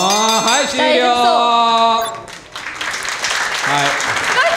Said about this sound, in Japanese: すごい拍手が大きい。